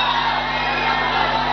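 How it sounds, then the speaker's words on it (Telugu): A crowd of fans at a political meeting shouts and whoops together in a dense, sustained roar, loud and close, with no clear individual voices. "మీరు అరుపులు అరిచినా ఏం అరిచినా నేను వాటికి పొంగిపోను ఓకేనా సంతో"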